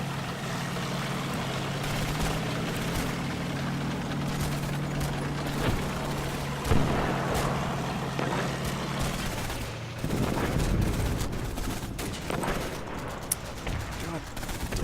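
Hellcat tank destroyer in the WWII strategy game Combat Mission opening fire, a dense rolling battle din of gunfire and booms over a steady low engine hum, with a heavier burst of shots near the end and talk at points.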